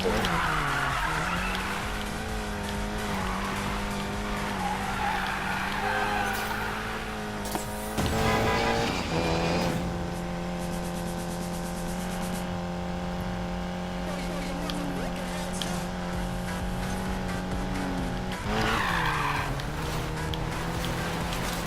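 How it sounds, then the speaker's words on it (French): A Golf 7 GTI drifting off-road in Need for Speed Payback: a sustained engine drone with tire squeal and skidding, shifting pitch through gear changes, under intermittent talk. "du drift en tout terrain"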